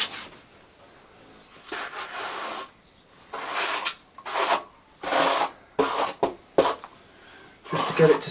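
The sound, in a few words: trowel scraping on block paving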